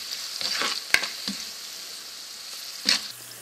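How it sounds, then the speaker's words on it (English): Onions, ginger, garlic and red chili powder stirred and fried together in a pan, with a steady close sizzle broken by a few sharp scraping stirs of a spoon against the pan. "So stir these spices along with onions,"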